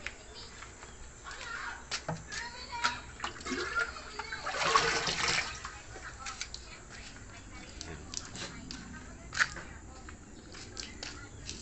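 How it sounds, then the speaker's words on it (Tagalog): Water runs and splashes into a washing machine tub during drain valve cleaning, a continuous splattering flow with a louder surge midway, while a person talks over it. "Ngayon, lagyan ulit natin ng tubig."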